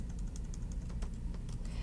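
Soft, steady keyboard typing with light clicking keystrokes in a quick irregular rhythm, faint against a low background rumble.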